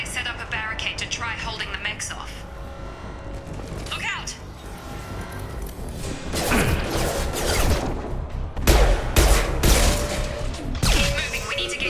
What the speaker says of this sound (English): Damn it! Those cannons... Keep your head down, Shepard